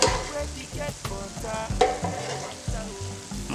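Puff-puff dough frying in hot oil while being stirred, a steady dense sizzle with irregular scraping stir strokes and small clicks throughout, close and fairly loud.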